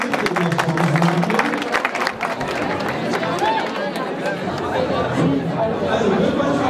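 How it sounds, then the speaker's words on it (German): Crowd at a prize draw during a job applicants' evening event, lively chatter and shouting mixed with scattered clapping, talk heard over the noise throughout. "jetzt bitten wir noch einmal zu ziehen und noch einmal Applaus"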